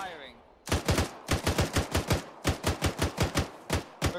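Rapid rifle fire in Arma 3 cracks out in loud, close bursts after a short quiet start, shots coming in quick rhythmic strings with brief pauses between volleys.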